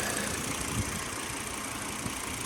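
Engine of a 2004 Volvo XC90 running steadily after maintenance, a constant even idle hum with faint knocking texture, close by and with no voices.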